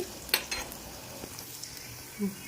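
Garlic and ginger pieces sizzle in a hot pan, a faint steady frying hiss broken by a few short clinks and stirring scrapes, with no talk.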